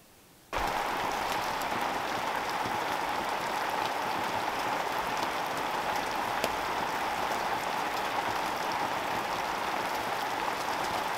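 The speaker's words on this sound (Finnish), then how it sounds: "Sieltä se sateen ropina sitten alkoi" Steady rain patters densely on a lean-to shelter at night, starting abruptly after a brief quiet moment and continuing evenly throughout.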